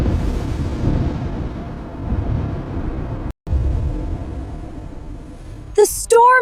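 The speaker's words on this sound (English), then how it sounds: "A storm. Hold on. Stay calm. It's getting stronger." Storm sound effect in an animated story, a low continuous rumbling roar that swells and drops out briefly, ending with a short higher effect burst.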